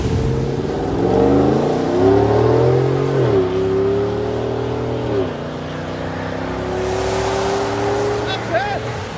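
A Cadillac Escalade with a 6.2L V8 and Corsa exhaust revs up and settles repeatedly, its deep engine tone climbing and falling, loud and close, with some voices underneath.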